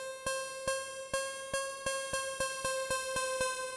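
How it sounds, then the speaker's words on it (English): Roland D-50 synthesizer playing a rising run of about eleven evenly spaced short plucked notes, with one octave stretched so each half step moves only a tiny microtonal amount; bright, clear tones with crisp attacks and no talking. "So 1/8 of an octave is going to be stretched out over an octave, which sounds like this, going up half steps."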